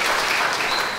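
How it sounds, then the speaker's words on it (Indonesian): A church congregation in Cimahi claps during a worship service, a dense, even burst of many hands that lasts only about a second. "Tepuk tangan dong buat jemaat di Cimahi"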